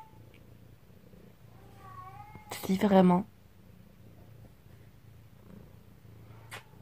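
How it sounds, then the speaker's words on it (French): A cat lets out a loud, drawn-out meow close to the mic amid quiet purring, with a person speaking briefly nearby. "Non, c'est toujours pas un bébé, hein. C'est encore mon autre chat"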